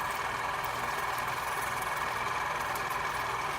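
A Waterpik water flosser runs steadily while rinsing a dog's teeth, a continuous close buzzing hum with a hissing water spray, no voices.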